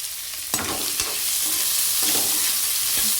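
Chopped onion frying in oil with cumin in a pan, a steady close sizzle broken by several scraping stirs of a spoon, with no voices.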